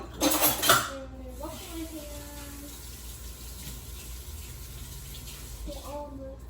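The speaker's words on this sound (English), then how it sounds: "we put them in the sink and wash them later. And I'm going to wash my hands." Utensils clatter loudly into a sink in a brief opening burst. Running tap water follows as hands are washed in a steady rush, with a voice speaking briefly over it.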